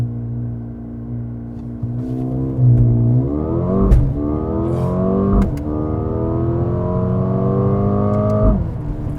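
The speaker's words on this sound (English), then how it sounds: "I'm gonna try to actually shift all the gears." A 2022 Mercedes-AMG CLA35 engine revs up loudly and climbs through the gears, its pitch rising and then dropping at each sharp upshift, close and steady throughout.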